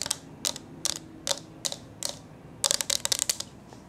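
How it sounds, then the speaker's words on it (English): Crisp ASMR tapping in a fast, aggressive style, evenly spaced single taps followed by a quick flurry of rapid clicks, close and dry with no voice. "How many taps can you hear?"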